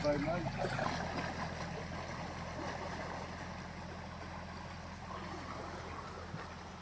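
A boat passes along an English canal, its low engine rumble mixing with the wash of water, close at first and then fading as it moves away, with faint voices in the background.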